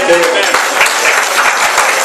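A church congregation claps during a sermon, a brief, loud burst of dense applause with voices mixed in.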